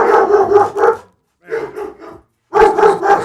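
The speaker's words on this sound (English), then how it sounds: "Dogs are going crazy." Dogs bark excitedly in three loud, overlapping bursts separated by short silences, close and agitated, with no voices over them.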